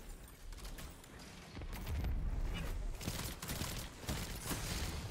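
Gunfire in the shooter game Destiny rattles almost without pause as the player takes hits from an enemy team, dense and loud, with flurries of shots stacked over a low rumbling bed.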